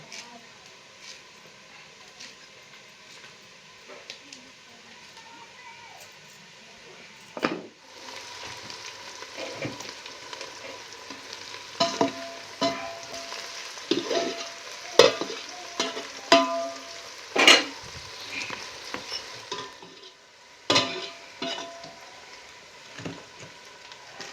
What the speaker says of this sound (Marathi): आता मस्त कांदा तळून घेतलाय मी